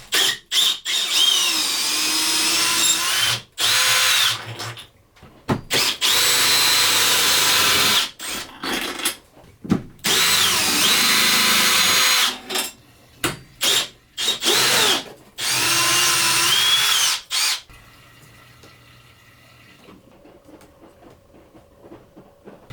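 Cordless power drill backing out through-bolts that hold a rooftop compressor unit, in loud whirring bursts of a few seconds each with short pauses between, then fading to quiet handling sounds.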